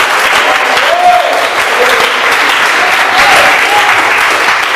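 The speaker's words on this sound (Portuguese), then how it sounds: "as palmas glorificam" A church congregation applauds during a Brazilian prayer service, loud continuous clapping lasting throughout, with a few faint voices calling out beneath the roar.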